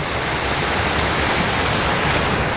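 Water rushes through the paddle channel of an old mill on the Norfolk Broads, a dense, loud, continuous roar close by with no pauses or voices.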